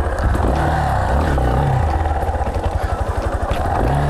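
A Yamaha Serow off-road motorcycle engine revs and chugs up close during a floating turn, with throttle pulses and brief clatter as the bike pivots, with no voices.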